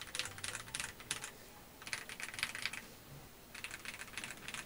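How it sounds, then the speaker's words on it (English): Typing on a RoyalAxe L98 mechanical keyboard produces bursts of quick, muted, slightly creamy clacks in steady runs with short pauses, close and clear, with no voices. "I was gonna say it's sounding like one of the better out of the box keyboards"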